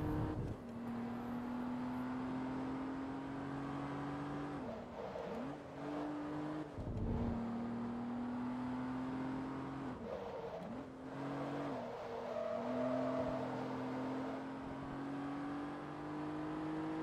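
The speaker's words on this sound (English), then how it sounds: "This car's definitely struggling in these chicanes." A Class-C race car in Forza Motorsport 2 works through chicanes, its engine holding a steady whining drone that dips sharply as the driver brakes and lifts, then climbs again as it accelerates, repeating several times.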